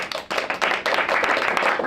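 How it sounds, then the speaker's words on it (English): A comedy club audience claps to vote for a competitor, with quick, close hand claps swelling into brief applause after a sparse start. "By applause, only clap for who you think should win."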